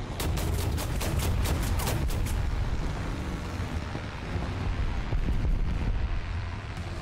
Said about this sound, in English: they are bombing our position